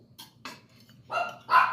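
A dog barks four times at home during breakfast, two softer barks followed by two louder, closer ones, with no talking.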